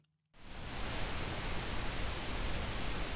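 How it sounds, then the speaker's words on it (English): Steady pink noise switches on abruptly after a moment of near silence and holds as a constant, even broadband hiss. "the pink noise here is what I'm gonna add to the track"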